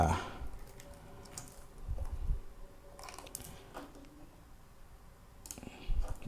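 A computer keyboard clacks as a file name is typed while saving a SketchUp drawing to the desktop, with scattered, uneven key clicks and a few heavier taps, fairly close and without speech.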